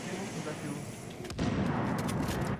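Heavy enemy gunfire rattles in The Division on PC, a dense stream of shots and booms that thickens midway, with players talking over the combat.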